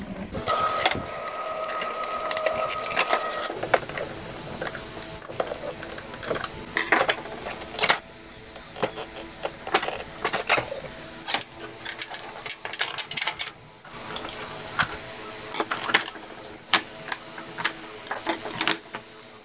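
An Epson L3110 inkjet printer with a paper-feeding fault runs close by, printing with no paper coming out, with whirring carriage movements, clicks and mechanical clunks in irregular bursts, no talking.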